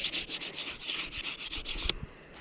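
A Yamaha TTR230 motorcycle exhaust is hand sanded with 600 grit sandpaper in quick rhythmic strokes, each a close rasping rub, about a dozen in a row before stopping abruptly.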